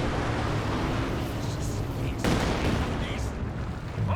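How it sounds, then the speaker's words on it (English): Katyusha rocket artillery in Company of Heroes 2, a dense roaring rumble of launches and blasts that swells sharply partway through, with a commentator talking over it. "Here come the Katyusha rockets."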